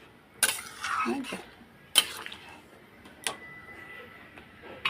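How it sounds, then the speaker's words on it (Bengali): A spoon stirring chickpea dal in a metal pressure cooker, with a few sharp metallic clinks and scrapes against the pot, spaced apart, fairly close. "এখন আমি নাড়া দিয়ে দেবো আর প্রেশার কুকারের মধ্যে একটু জল দেওয়া আছে"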